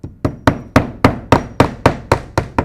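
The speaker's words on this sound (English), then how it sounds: "nail the panel," A hammer drives nails into a shake siding panel in ten sharp, evenly spaced strikes, loud and close, each a crisp knock with a short ringing decay and no talking.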